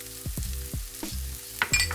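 Chopped shallot dropped into a hot pan of mushrooms that have cooked for a few minutes, giving a steady close sizzle of frying with a few soft scrapes and stirs on top.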